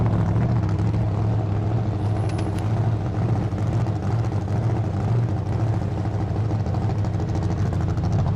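Steady low rumble of a 5,000-pound four-wheel drive van engine idling and creeping forward onto a hard plastic case, constant and close, with no talking.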